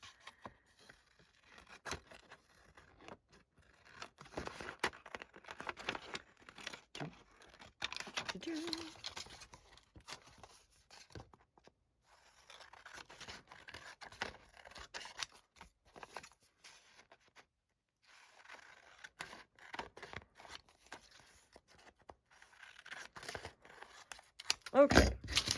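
Scissors snip and slice through a paper scrap for a handmade CD envelope in a series of quiet, irregular cuts with crinkling between them and a louder rustle near the end.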